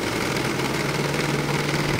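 A car engine idles steadily with the air conditioning running, its body shaking from a wobbling, worn radiator fan motor. It holds a constant close, loud drone with a strong low hum and no talk.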